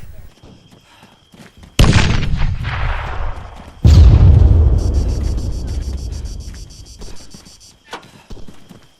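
Two heavy booming grenade blasts in the video game Arma 3 land a couple of seconds apart, each trailing into a long rumbling decay, with a brief sharp click near the end.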